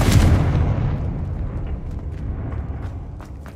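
In Hogwarts Legacy, a Confringo spell blast booms loudly at the start, then its deep rumble slowly fades under a few faint ticks and clicks.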